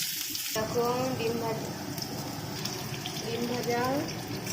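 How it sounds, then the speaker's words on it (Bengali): Eggs frying in mustard oil give a steady, close crackling sizzle that runs throughout, with a voice talking over most of it. "দেখো বন্ধুরা, কত সুন্দর ডিমটা ভাজা হচ্ছে।"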